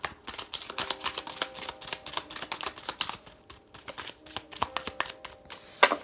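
Pure Love oracle cards shuffled by hand in a steady run of soft, papery riffling clicks and flutters, close and fairly quiet, with a sharper snap near the end and no talking.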